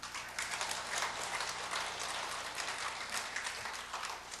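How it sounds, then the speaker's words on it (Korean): A church congregation at a mothers' prayer meeting claps together: dense, fairly soft applause that keeps up a steady rattle of hand claps from start to finish. "이럴 때 박수 한번 치는 거예요."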